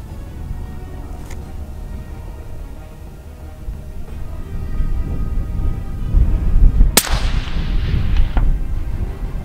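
Rifle shots ring out on a 300-yard long-range shooting range: a few sharp, loud cracks with rolling echo tails over steady outdoor wind rumble, no talking.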